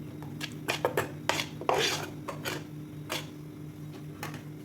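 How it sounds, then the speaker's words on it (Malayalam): A spoon clinks and scrapes against a glass or bowl as watermelon pieces are mixed into a cold refreshing drink, several quick irregular taps and knocks close by over a low steady hum. "അതും കൂടെ ചേർത്ത് കൊടുക്കുക. നന്നായിട്ടൊന്ന് മിക്സ് ചെയ്ത് കൊടുക്കുക."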